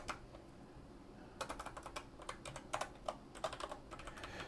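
Keys on an ergonomic computer keyboard clatter in quick, uneven bursts after a quiet start, fairly soft and close, with brief gaps between runs of typing.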